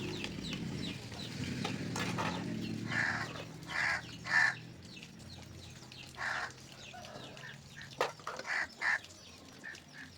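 Chickens cluck in short bursts around a village house, with soft scratching and scattered bird calls in a quiet outdoor setting, no talking.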